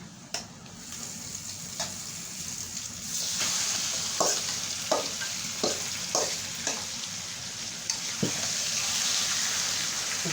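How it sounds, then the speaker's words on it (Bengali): Meat frying in a pan over browned onions while being stirred: a steady close sizzle with intermittent scraping strokes of the spoon across the pan, growing slightly louder partway through, with no speech. "এর মধ্যে মাংসটা দিয়ে দেব। দেখুন পুরোপুরি বাদামি হয়ে গেছে। আমরা এক্ষুনি মাংসটা দিয়ে দিলাম।"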